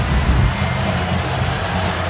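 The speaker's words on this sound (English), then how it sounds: "Perhaps you heard the crowd as soon as they saw it on the big screen." A basketball arena crowd at a Nets–Lakers game reacts with a loud, sustained collective murmur and oohing, a dense roar filling the whole space without a break.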